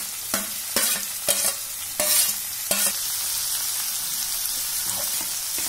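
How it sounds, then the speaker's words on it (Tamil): Peas, carrot, beans and tomato sautéing with curry leaves in a pan for varagu rice kichadi, several sharp scraping stirs early followed by a continuous bright sizzle, close and without speech. "இப்போ நல்லா வதங்கிடுது பாருங்க"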